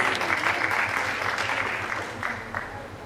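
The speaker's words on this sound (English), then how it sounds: "May we have a round of applause for their efforts." Applause at a college union inauguration function, moderately loud at first and then thinning out into scattered claps, with some crowd murmur under it.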